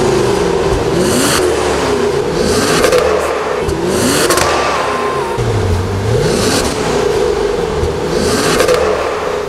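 A Maserati Quattroporte GTS with an eight-cylinder engine revs repeatedly in loud, close swells, its pitch rising and falling in waves over a constant background rush.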